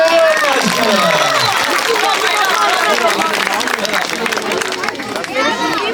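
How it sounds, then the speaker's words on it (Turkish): A crowd at a children's festival in Akçakese breaks into dense, steady applause and cheering, loud and close throughout, with voices shouting over the clapping. "Bravo! Bravo! Alkışlar!"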